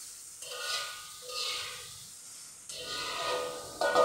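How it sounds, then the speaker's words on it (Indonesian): Crushed chili frying in a pan for sambal, with soft hissing sizzle and scraping stirring strokes that rise and fall in a few slow waves, steady and close with no talk. "saya bikin sambal cabai tumis cabai geprek itu banyak"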